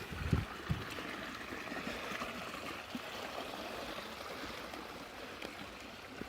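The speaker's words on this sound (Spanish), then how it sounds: "Agua y más agua." A mountain stream flows on a hillside, a continuous soft rush and gurgle of water that stays even and fairly quiet throughout, with a couple of light knocks near the start and no voices.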